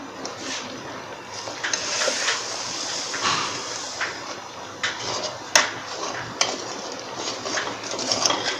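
Sugar goes into rice kheer cooking in a pot, heard as scattered scraping and clinking of a spoon against metal with small knocks and soft stirring, close and moderately loud.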